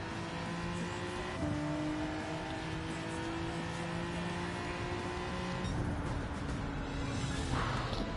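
A Ferrari races in Gran Turismo 7 with a loud, sustained engine whine that climbs in pitch and drops at each gear change, about twice in the stretch, with no talking.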